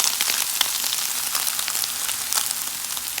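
Soaked, squeezed and chopped soya chunks sauté in hot coconut oil, giving a loud, dense frying sizzle with crisp crackles and a few spatters, steady for the whole stretch with no voices.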